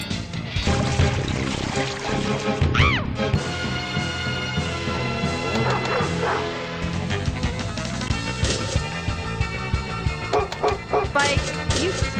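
In a video game, a dog barks and yips amid dense, loud game music and effects, with a player talking over the action.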